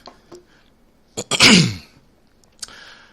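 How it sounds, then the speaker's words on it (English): Several short coughs and throat-clearing bursts, one loud harsh cough in the middle, scattered across an otherwise quiet courtroom. "those of you having coughing fits"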